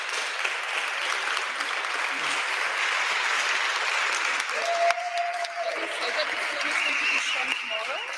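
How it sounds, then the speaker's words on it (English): Award ceremony audience applauding continuously, a steady broadband wash of clapping with a brief tonal sound and voices faintly underneath. "Thank you for the applause"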